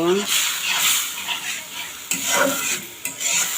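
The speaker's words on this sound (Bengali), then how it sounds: "খুব সুন্দর করে আমি এখন একটু কষায় নেব।" A ground spice paste of green and black cardamom, cinnamon, pepper and cloves is stirred and fried in a pan while cooking beef brain. There is a steady close sizzle with repeated scraping strokes, and no voices.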